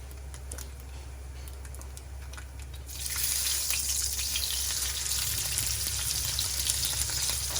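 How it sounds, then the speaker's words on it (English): Bacon sizzles in a pan with a soft crackle, then a louder, brighter hiss of frying starts abruptly and continues steadily over a low background hum, at a home breakfast cooking spot in the Philippines. "So I'm going to throw a little bit more bacon in here."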